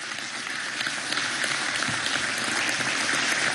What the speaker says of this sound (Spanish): pido un aplauso del generalato y del almirantazgo a nuestro pueblo